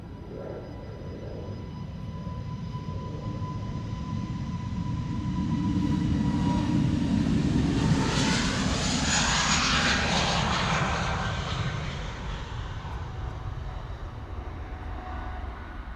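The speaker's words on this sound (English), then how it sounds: "This is an A320 Neorio going to Southend." A two-year-old easyJet Airbus A320neo departs Amsterdam Schiphol Airport bound for Southend: a loud jet engine roar that swells to a peak midway, then slowly fades into a distant rumble and whine.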